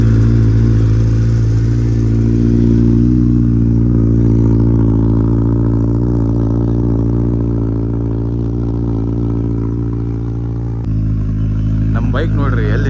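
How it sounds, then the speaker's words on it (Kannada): A car idles loudly and steadily after a cold start at an auto expo in Chitradurga in 2025. The deep engine rumble stays close and continuous throughout, dipping slightly near the end. "ಸೊ ಈಗ ನಾನು ಕೋಲ್ಡ್ ಸ್ಟಾರ್ಟ್ ಮಾಡಿ ಈಗ ಆ ಸೈಡ್ ಪಾರ್ಕ್ ಮಾಡ್ತೀನಿ ರೀ."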